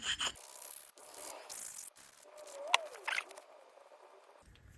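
Savage 93R17 rifle bolt polished by hand, with intermittent soft rubbing and scraping strokes, a brief sharp tick near the middle, all fairly quiet and close with no talking.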